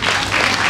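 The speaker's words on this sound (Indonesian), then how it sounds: "Tepuk tangan ya." Dense, loud applause from an audience at a church gathering, a brief steady burst of clapping heard up close.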